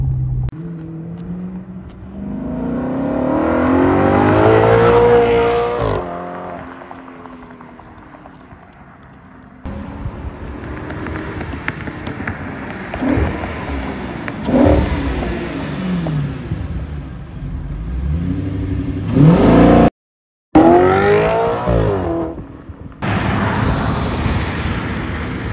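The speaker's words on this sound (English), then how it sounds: "You can hear the exhaust from behind because it sounds amazing." A salvaged Audi RS5 sports car's exhaust roars and rises in pitch through repeated accelerations, loud and close, with brief dips between gear changes.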